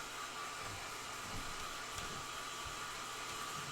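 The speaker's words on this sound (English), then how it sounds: "I'm using my hair dryer on the cloth just to help speed up the dry." A hair dryer blowing on a cloth, a steady broadband whooshing hiss with a faint whine, continuous and moderately close, with no talking.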